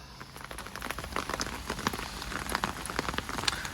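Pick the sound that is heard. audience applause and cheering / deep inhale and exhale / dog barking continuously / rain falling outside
rain falling outside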